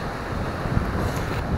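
Steady wind roars and buffets close against the microphone on the shore at Runswick Bay, a broad rushing noise with no voices.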